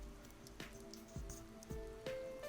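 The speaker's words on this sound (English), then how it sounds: "It's raining." Night rain in the video game Persona 4 Arena, a faint, quiet patter with a few distinct drips landing about every half second.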